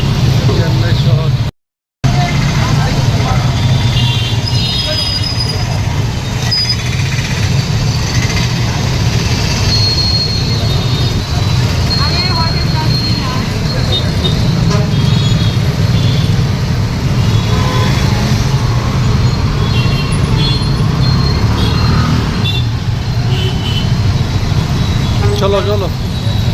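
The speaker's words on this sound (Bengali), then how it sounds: "একেবারে মেইন রোড, অনেক গাড়ি" Dense city traffic roars along a busy main road in Chennai near a metro rail station and market, a steady low rumble with scattered horns and engine noise, lasting throughout with a brief dropout near the start.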